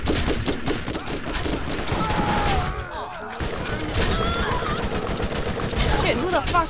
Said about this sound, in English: who the fuck is shooting me?